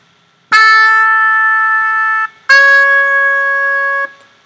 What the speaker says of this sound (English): click on trumpet full, and it sounds like this.